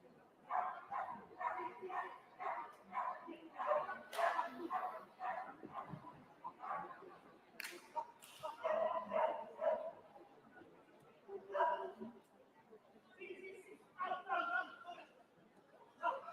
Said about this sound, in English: Happy dogs, happy handlers.